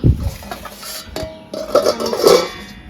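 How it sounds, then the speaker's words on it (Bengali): Dishes and cutlery clink and scrape at close range as rice is served onto plates at home, in a few sharp metallic knocks and rattles with short pauses between them. "এই যে মা এখন ভাত বেড়ে নিচ্ছে"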